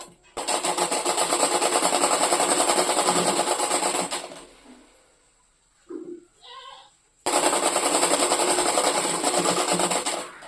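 A sewing machine stitches a coat-collar shirt past the buckram interfacing in two loud, continuous rattling bursts, separated by a short pause with faint handling noises.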